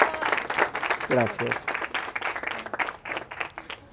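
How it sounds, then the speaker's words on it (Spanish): Guests at a quinceañera celebration give a round of applause, moderate clapping mixed with a speaker's voice talking over it. "un aplauso para la tía, por favor."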